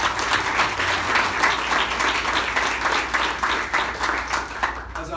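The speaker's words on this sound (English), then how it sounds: "So please give them another round of applause." An audience applauds the 2020 Teacher and Principal of the Year finalists at their announcement, a full, steady round of many hands clapping that carries evenly to the end before fading slightly.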